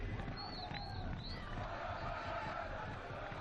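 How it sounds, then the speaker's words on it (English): Football crowd at a Hume City versus Melbourne Srbija Australia Cup match, a steady distant roar of chanting and cheering with a few whistles, faint and continuous throughout. "Hume City crowd again making their voices heard"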